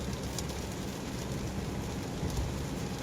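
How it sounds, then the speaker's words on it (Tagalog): Heavy rain pours on the Skyway in Makati, a dense, constant hiss of downpour that stays even and unbroken throughout, with no voices. "Malakas ang ulan. Sobrang lakas dito."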